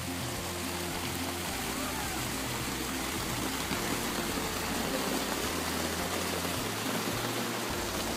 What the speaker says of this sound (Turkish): Burada da diğer şelale var.